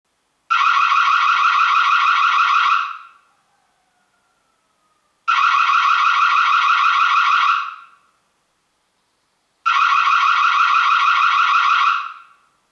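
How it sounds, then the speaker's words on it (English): The built-in siren of a Reolink TrackMix Wi-Fi battery security camera, three loud electronic wailing bursts of roughly two and a half seconds each, separated by silent gaps. "The built-in siren is also a good feature for scaring away intruders whenever motion is detected, or on demand through the mobile app."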